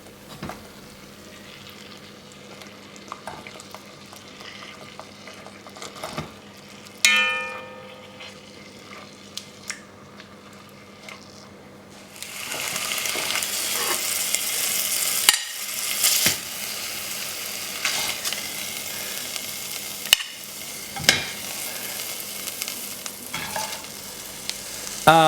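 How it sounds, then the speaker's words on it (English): Meat browns in melted butter inside a Dutch oven: a quiet low crackle at first, then a loud sustained sizzle erupts as pieces hit the hot fat, with occasional clanks of a utensil against the pot. "Once butter is melted, brown meat on both sides"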